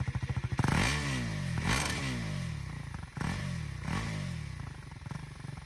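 A 2024 KTM Duke 390 motorcycle engine revs hard at high RPM several times, each rev climbing sharply in pitch before dropping back, loud and close.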